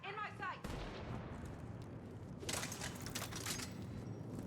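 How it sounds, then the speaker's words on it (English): In Mass Effect 3, a Widow sniper rifle loaded with incendiary rounds fires sharp, loud gunshot bursts over a dense, noisy game soundscape, with a heavier crackling stretch partway through. "It's a widow with incendiary rounds"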